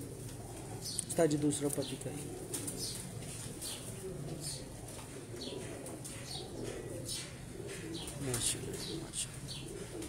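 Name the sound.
pigeons cooing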